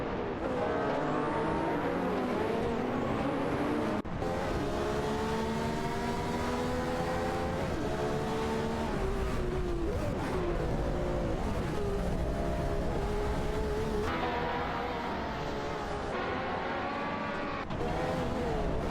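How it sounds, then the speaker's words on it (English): Race cars in a racing video game, including a Nissan GT-R Nismo dueling a Ford GT, roar continuously with engine notes rising and falling through gear shifts, loud and steady throughout with no talk. "Maya's Nissan GTR Nismo is up against Sirironbot's Ford GT17."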